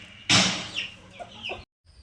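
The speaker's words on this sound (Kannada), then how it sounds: "ಕೋಳಿಗಳೆಲ್ಲ ತಿಂತಾಯ್ತೆ ಮೇವನ್ನ" Chickens cluck close by while eating feed, with a loud burst and then a few short, uneven clucks before the sound cuts to brief silence.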